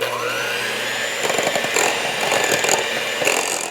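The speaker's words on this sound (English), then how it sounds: "Now we can add our dry ingredients back in, and we can beat that in." An electric mixer whirs steadily as dry ingredients are beaten into keto white chocolate macadamia cookie dough, its motor loud and close, with rattling bursts as the beaters churn.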